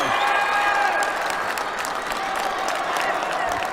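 Georgian crowd at a para judo World Cup final in Tbilisi applauding and cheering, a sustained wash of clapping with a commentator's voice running over it.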